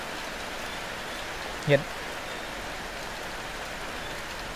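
Steady rain falls during a rainy spell at a rural home, a continuous soft hiss throughout, with a short voice briefly heard partway through.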